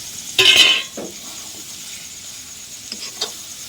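An egg lands in a pan of ghee for Maggi biryani, giving a brief clatter and hiss near the start, followed by a couple of faint scrapes over a quiet room.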